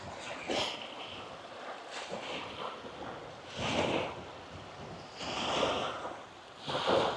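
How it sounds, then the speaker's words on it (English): Rough, wind-whipped choppy water washing and surging in broad swells, with wind buffeting the microphone; distant, fairly faint wave rushes rise and fall a few times. "Look how rough this water got. It's from the wind."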